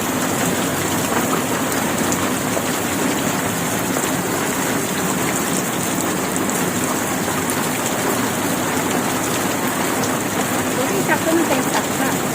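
Dense, steady downpour of heavy rain hissing and drumming on surfaces, loud and unbroken throughout.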